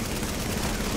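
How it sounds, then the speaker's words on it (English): Rapid shotgun blasts in a chaotic video game firefight, loud and dense with overlapping shots and little space between them, close up throughout. "There's another shotgunner that's trying to shoot me in the face"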